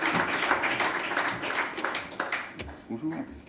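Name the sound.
audience applause at an awards ceremony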